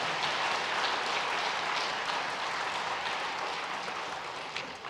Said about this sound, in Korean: 잠깐 자리에서 일어나실 때 큰 박수로 환영하겠습니다